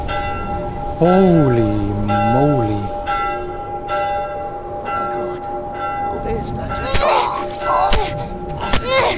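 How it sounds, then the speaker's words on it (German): A church bell tolls with long resonant ringing in The Last of Us gameplay, accompanied by in-game thuds and impacts, while a person briefly speaks over it. "Ich arbeite mich einfach nur vor Richtung Kirchenglocke."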